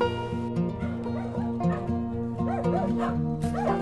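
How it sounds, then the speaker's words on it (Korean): Two dogs at a rural property near a reservoir in Yesan, South Korea, yip, whimper and bark excitedly at a stranger in a quick, repeated, close-up series of high calls over a steady low hum. "두 마리 강아지가 낯선 사람을 자신의 방식으로 반깁니다."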